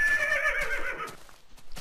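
Horse neighing in a fantasy video game while a player tries to tame it; one loud, close whinny with a bright, wavering pitch that falls off after about a second, no talk.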